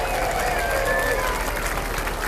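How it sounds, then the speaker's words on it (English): A street crowd at an Irish Days parade applauds the passing fire chief, with a steady wash of clapping and cheering and some crowd noise mixed in. "Let's give him a big round of applause"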